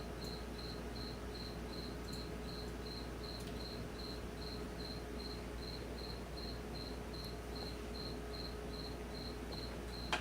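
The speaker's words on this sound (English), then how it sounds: "see if I can get this cricket to stop chirping" A single cricket chirps in steady, evenly spaced pulses throughout, loud and close indoors over a constant low hum, with no talking.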